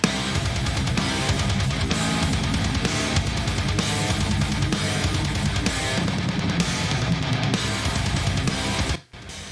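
Dense, loud band music with distorted guitars carrying a repeating riff over drums, steady throughout before a brief dropout near the end.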